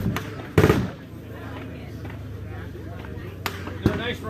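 Rifle shots ring out at an outdoor shooting range during an industry day, two sharp loud cracks spaced a few seconds apart with fainter distant pops between, while people chat nearby.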